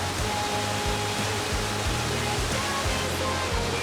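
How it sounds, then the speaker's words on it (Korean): The Ravana waterfall in Sri Lanka roars in a dense, steady rush, with a low rhythmic rumble pulsing beneath the constant spray. "격하게 떨어지는 물줄기와 폭포 소리"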